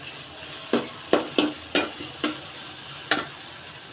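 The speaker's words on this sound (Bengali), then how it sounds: "সাথে গরম মশলা দিচ্ছি, দারচিনি, এলাচ, লং, তেজপাতা সব দিয়ে ভালো করে ভেজে নিব পেঁয়াজটা।" Onions frying with garam masala, cinnamon, cardamom, cloves and bay leaf, a constant hissing sizzle punctuated by about seven distinct scrapes of a spatula stirring through the pan.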